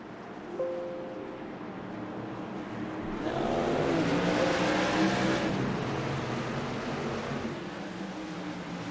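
Race cars at a green flag start at Myrtle Beach, a broad engine roar swelling in from about three seconds and staying loud, heard from a distance as the field gets going.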